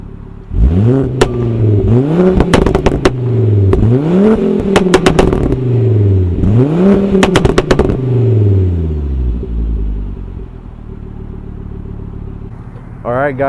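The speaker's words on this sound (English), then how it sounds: "Now I'm gonna press advanced mode and I'll show you guys the cool party trick." A Volvo S60R engine in advanced mode revs in three rising sweeps with sharp crackling pops on the overrun, then settles to a low idle, loud and close.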